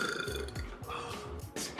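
A man gives a drawn-out, rumbling burp in several rough pulses, close to the microphone, ending with a brief louder belch.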